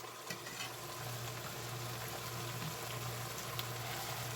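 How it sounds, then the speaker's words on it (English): Pumpkin leaves simmering in a pot with a steady low bubbling hum, continuous and fairly quiet with a few faint clicks. "So now it's simmering."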